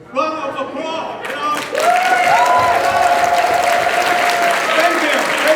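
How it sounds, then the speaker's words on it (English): A crowd claps loudly and steadily after a political speech by Andrew Yang in Portland, the applause swelling into a thick, continuous wash with scattered cheers. "Another big round of applause."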